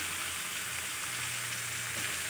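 Mango pieces stirred in hot oil for a sweet-sour-spicy jaggery mango dish give a steady, close frying hiss that holds evenly throughout, with no talking.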